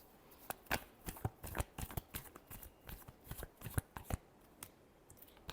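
Tarot cards are shuffled by hand in a rapid run of crisp riffling snaps and flutters, close and fairly soft, with no voice over them.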